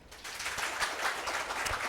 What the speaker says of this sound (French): Mais on applaudit quand même.